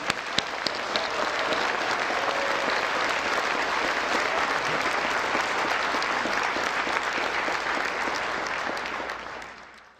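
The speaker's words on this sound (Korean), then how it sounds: "우리 대통령님께 내년에도 계속 오셔달라고 다시 한번 뜨거운 박수를 부탁드립니다" A large audience at Korea's 54th National Prayer Breakfast in 2022 gives the president a sustained, dense round of applause that holds steady for about ten seconds, then fades near the end.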